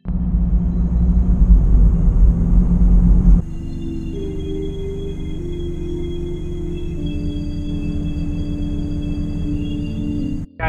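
A car makes a short delivery drive to a nearby drop-off. Its steady low engine rumble and road drone run throughout, dropping to a calmer, even hum after a few seconds, with no talking.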